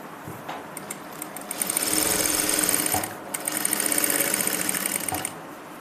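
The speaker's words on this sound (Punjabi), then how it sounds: "ਪਹਿਲਾਂ ਤਾਂ ਆਪਾਂ ਸਲਾਈ ਲਗਾਵਾਂਗੇ ਬਿਲਕੁਲ ਸਿੱਧੀ ਇਸ ਦੇ ਉੱਪਰ" A sewing machine runs in two steady bursts stitching a straight seam on a salwar pocket, its fast mechanical whir rising and falling with brief pauses between runs, close and loud with no talking.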